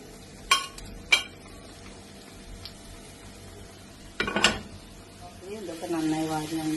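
Broccoli stirred and fried with softened cooked tomatoes in a pan: a few clear metallic clinks of a spoon against the pan, then soft frying and stirring with a voice speaking toward the end.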